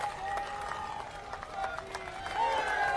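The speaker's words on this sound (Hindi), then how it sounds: "पूरी तरह अपने स्थान पर कारीलाल जी के ताली बजाइए, पूरी तरह से खड़े होकर के" Rally crowd at a BJP by-election campaign event in Chaurasi with the Chief Minister breaks into applause, scattered claps building louder toward the end beneath an amplified voice and a ringing tonal drone.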